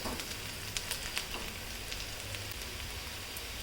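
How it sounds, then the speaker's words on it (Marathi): Garlic and onion sauté in a pan with a soft, steady crackling sizzle, fairly quiet and unbroken, with no talk. "लसूण कांदा चांगला परतून घ्यायचा."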